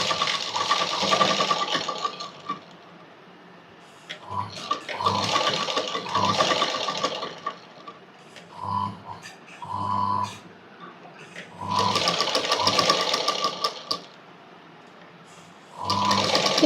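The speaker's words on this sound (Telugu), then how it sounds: "ఈ విధంగానే మొత్తం కుట్టుకోవాలి." Sewing machine stitching fabric for a small baby frock, running in several bursts of steady whirring with short pauses between, close and clear with no talking.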